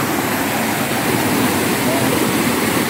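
Rushing river current pours past in a steady, loud, broadband roar with no breaks, close by and alone throughout.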